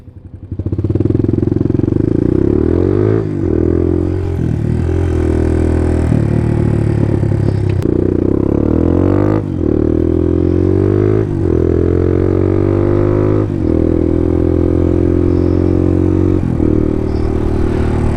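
A motorcycle rides through town, its engine loud and close throughout, revving and shifting through gears with rising and falling pitch sweeps, pausing briefly at lights before pulling away again.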